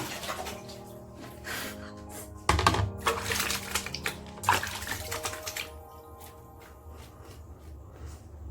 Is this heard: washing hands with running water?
yes